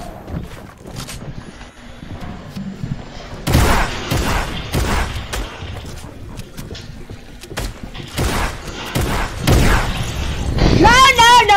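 Gunfire in the video game Fortnite: loud, sharp bursts of shots and booming impacts arrive in clusters, some ringing and shattering, while people talk and shout excitedly over the action, ending with an energetic vocal outburst.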